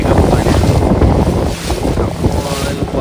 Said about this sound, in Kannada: ಈ ಗಾಳಿ ಜೋರಿ